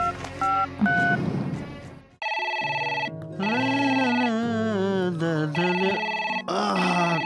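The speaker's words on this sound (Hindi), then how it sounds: "किसका फोन आ गया?" A telephone rings with bright, melodic electronic ringtone tones that play in repeated bursts, loud and close, after a brief burst of other sound.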